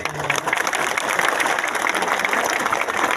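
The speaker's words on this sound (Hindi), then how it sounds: "सब इनको भी एक बड़ा ताली दीजिए" An audience at a minorities gathering in Sabroom claps steadily and densely for a few seconds, a continuous even patter of many hands with little else over it.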